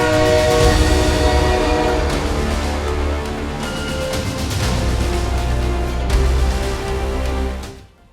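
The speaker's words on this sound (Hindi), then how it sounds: "1964 में दुनिया की पहली हाई स्पीड ट्रेन चल गई, टोक्यो से ओसाका तक" A Japanese Shinkansen high-speed bullet train roars past with a sustained horn blast over loud rolling rail noise, fading away at the end, with no one speaking.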